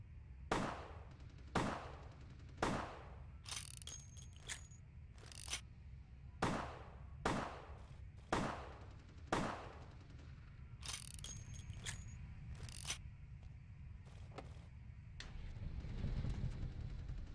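Gunfire in Vampire: The Masquerade – Bloodlines, about a dozen sharp shots fired one by one at roughly one-second intervals, with faint mechanical clicks between bursts and a low rumble building near the end.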